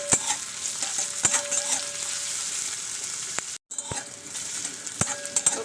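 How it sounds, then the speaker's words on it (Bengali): Chopped onion frying in mustard oil in a pan, a steady close sizzle broken by the repeated scrape of a spatula stirring it, with one brief dropout. "পেঁয়াজটাকে একটু ভালো করে নাড়াচাড়া করে নেবো।"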